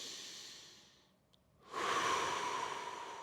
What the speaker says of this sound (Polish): Oddycham swobodnie.